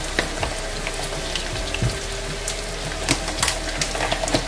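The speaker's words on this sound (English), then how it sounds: "So we'll stir fry this" Onions stir-frying in oil for an okra seafood dish, a loud continuous sizzle and crackle with occasional sharp pops and utensil scrapes, close and without talk.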